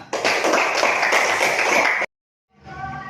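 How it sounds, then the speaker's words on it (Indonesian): Students in a physics classroom burst into brisk, dense applause for about two seconds, then it cuts off abruptly into silence before other room sound resumes. "Bagus, tepuk tangan."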